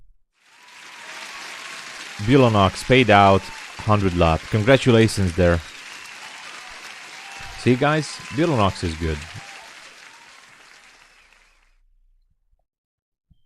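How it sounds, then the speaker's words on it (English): A canned applause effect played during a live futures day-trading stream, a soft wash of clapping running under a voice and trailing off after he stops talking. "let me give you an applause."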